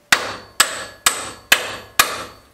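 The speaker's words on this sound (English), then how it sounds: "we'll just tap it into place" Five sharp hammer taps strike a forklift tilt cylinder to seat it in place, evenly spaced about half a second apart, close and loud with a short ringing decay and no talk.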